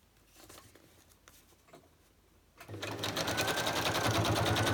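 A sewing machine stitches fabric tabs, starting with light handling and rustling, then kicking into a loud, fast, steady whir of stitching that runs to the end, close by.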